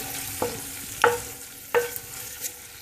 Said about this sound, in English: I let this scrape off all those residuals from the bottom. I'm going to let this work it into the oil.